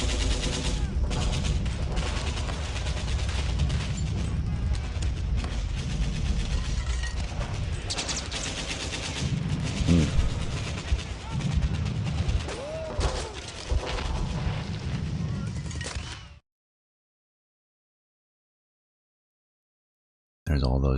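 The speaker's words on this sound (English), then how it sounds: "And then they're doing a bombardment attack." A bombardment attack in the strategy war game War Plan Orange plays as a sustained, loud barrage of booms and rattling gunfire for about sixteen seconds, then cuts to silence before a brief return at the end.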